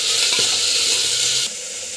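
Cluster beans sauté in a pan with a loud, steady sizzle and a few brief stirring clicks, heard close up; the sizzle drops in level partway through.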